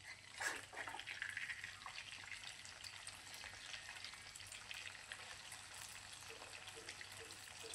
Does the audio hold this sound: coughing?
no